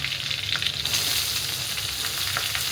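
Chopped onion hitting a hot pan for pasta, a continuous close sizzle and hiss with a brief stir near the start, no voices.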